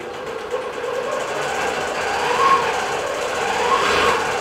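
A digital quilting machine stitches around embroidered blocks on a quilt, giving a steady, continuous mechanical drone at moderate loudness with a faint rhythmic chatter throughout and no talking.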